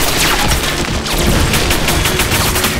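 Sustained gunfire from a Command & Conquer 4: Tiberian Twilight trailer, loud, dense overlapping bursts and booms filling the whole moment without letup, no speech.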